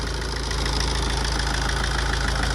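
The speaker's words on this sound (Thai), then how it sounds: "ก็ปลักหัวฉีดสูบสีนะสตาร์ทเครื่องดูอะ อ่าเครื่องติดง่ายนะครับ" Tata diesel engine idles steadily after an injector repair, a loud close rumble with an even knocking pulse and no break.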